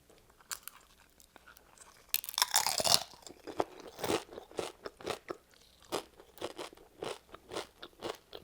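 Crunchy Chipotle restaurant tortilla chips eaten up close in a Mexican food mukbang, with a dense burst of loud crackling bites around the middle followed by a steady series of separate crisp chewing crunches.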